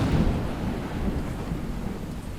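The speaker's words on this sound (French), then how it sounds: "l'orage et la pluie sont arrivés" A thunderstorm with rain breaks over Bellinzona, a deep rolling rumble of thunder that is loud at first and then eases into a steady wash of rainfall.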